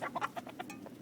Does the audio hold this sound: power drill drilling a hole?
no